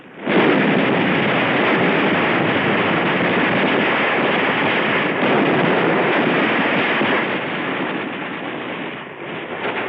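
Heavy mortar fire and flamethrowers in a World War II battle at Tarawa merge into a dense, loud, unbroken roar of blasts and rushing fire that fades slightly near the end.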